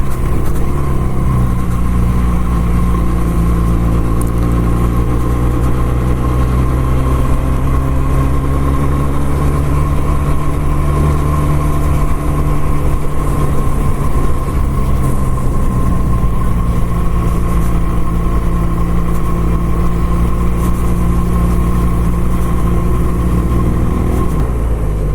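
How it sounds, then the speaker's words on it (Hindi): Car engine pulling uphill in fourth gear on a mountain road climbing to a hill station, a steady loud drone with slowly shifting pitch as it labours on the grade, heard from inside the vehicle. "चढ़ाइयाँ स्टार्ट हो गई हैं और अल्हम्दुलिल्लाह चौथे गियर पे मस्त जा रही है"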